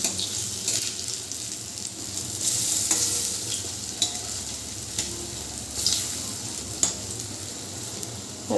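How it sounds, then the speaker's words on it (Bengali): Gadal leaf bora fritters fry in a pan of hot oil over a medium gas flame, giving a steady crackling sizzle with brief scraping bursts as they are turned; no talking. "ওদিক পাল্টে ভালো করে বড়াটাকে একটু মুচমুচে করে ভেজে নিতে হবে।"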